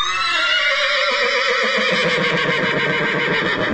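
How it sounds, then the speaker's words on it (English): A horse whinny sound effect plays as one long, loud, close neigh that rises shrill and then breaks into a trembling, fluttering whinny, with no talking over it. "insert a horse whinny here"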